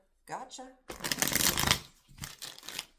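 Tarot cards are shuffled close up in two crisp riffling bursts, following a short spoken sound.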